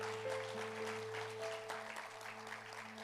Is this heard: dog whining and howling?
no